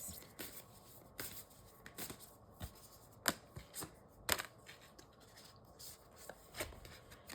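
Tarot cards are handled and shuffled in soft, irregular riffles and slaps, close and quiet, with short pauses between bursts.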